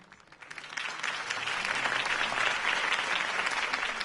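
Crowd applause for a campaign speech in Batman: The Telltale Series, swelling quickly from quiet into a full, sustained burst of clapping from a large audience.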